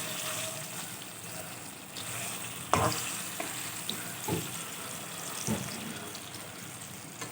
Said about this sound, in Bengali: এভাবে আমি সমস্ত বড়া ভেজে নেব